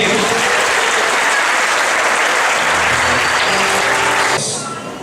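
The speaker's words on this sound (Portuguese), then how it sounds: "vamos aplaudir o Rei." A church congregation claps during a worship service: dense, steady applause fills the room for over four seconds, then thins out and fades at the end.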